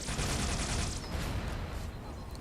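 Rapid Needler gunfire in a Halo 3 team slayer match on the Pit, with a dense burst of sharp repeated shots in the first second, then a rumbling clatter of game action.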